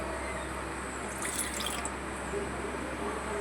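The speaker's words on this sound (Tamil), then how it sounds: "தண்ணியெல்லாம் ஊற்றிடணும்" Water pours into a kitchen mixer jar while buttermilk is made, a steady trickling splash against a constant low hum, fairly close and even throughout.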